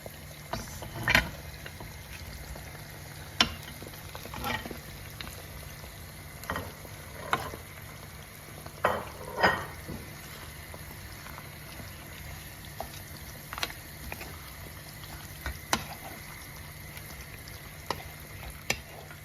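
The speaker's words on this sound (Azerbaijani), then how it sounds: "Ət və soğanı bir yerdə 5 dəqiqə qovurur" Meat and onions fry together in a pan for Azerbaijani khingal, giving a low steady sizzle broken by scattered clinks and scrapes of a utensil stirring. No one speaks.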